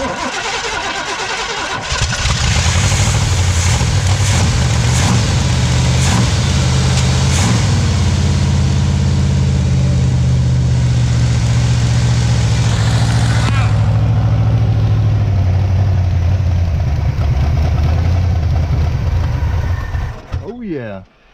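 A drag car engine idles after an idle screw adjustment, a loud, steady, lumpy rumble close by that holds for about twenty seconds before cutting off. A voice is briefly audible early on.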